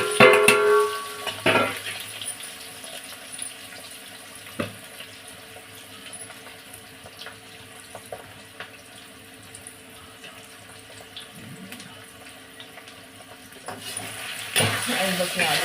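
Water running from a tap while dishes are washed in a sink, a soft steady splash with occasional clinks of utensils, under intermittent talk.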